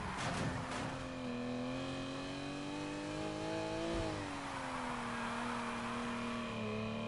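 Revving car engine in a racing video game, a steady loud drone with rising and falling pitch as the car accelerates and drifts, with a burst of tire noise near the start and no talking.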